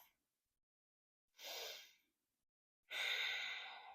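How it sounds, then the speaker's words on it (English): Two slow, close breaths during a gentle restorative yoga session: a soft airy inhale, a pause, then a longer, fuller sighing exhale, alone in a quiet room. "One more full breath."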